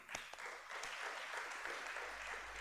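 A conference room full of people clapping, a dense, steady patter of applause heard from some distance, fairly quiet and sustained.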